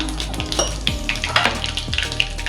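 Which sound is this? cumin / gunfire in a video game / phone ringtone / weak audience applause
cumin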